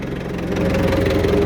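A tractor engine runs in winter, a steady, low mechanical drone throughout, rumbling and vibrating close by, growing slightly louder after the first half second.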